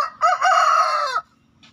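A young crossbred rooster crows once, a loud, close cock-a-doodle-doo lasting about a second, then quiet with faint background sounds.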